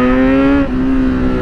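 A Kawasaki Z superbike engine revs close and loud toward an 11,000 RPM peak, a strong steady tone holding for over a second with a slight dip midway.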